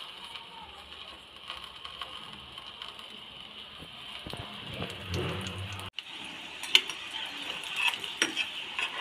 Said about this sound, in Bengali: বাকি কচুরি কটা এভাবেই ভেজে নেব।